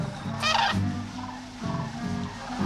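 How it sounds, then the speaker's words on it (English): Birds calling just before sunrise outdoors: a loud, close, clucking, fowl-like call stands out over a steady outdoor background with more calling. "There's birds everywhere."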